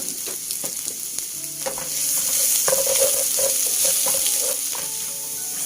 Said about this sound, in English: So we stir fry the garlic